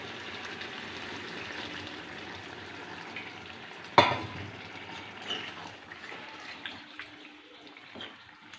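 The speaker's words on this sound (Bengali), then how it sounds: "এবার আমি এতে অল্প একটু জল দিয়ে দেব।" Bottle gourd curry sizzles steadily in a pan as a little water goes in, with a sharp splash and clatter midway, then softer bubbling and stirring knocks.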